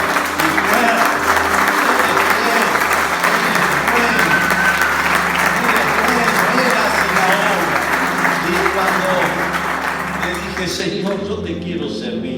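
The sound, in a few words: congregation applause in a church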